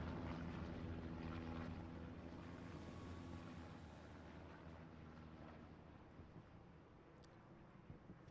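A recon plane flies over the battlefield in a tank video game, a steady, broad engine drone that slowly fades over several seconds and stays alone, with no talk.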